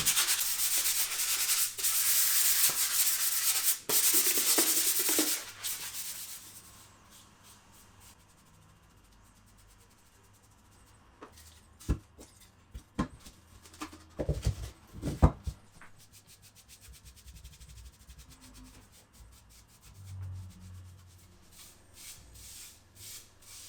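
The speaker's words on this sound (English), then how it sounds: "Once the first layer is dry, I lightly sand the surface to prepare it for the second layer." Sandpaper lightly rubs the semi-gloss finish on a portable Bluetooth speaker enclosure, with a steady, close, loud scratching for several seconds. Quieter scattered taps and scrapes follow.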